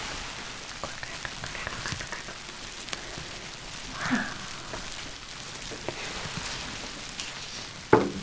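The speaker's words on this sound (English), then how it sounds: "Oh, it's really getting it sizzling. Whoa, look at that. Like crackling." A continuous fizzing crackle, like a potion sizzling in a hot pot, with scattered pops and a sharper clack near the end.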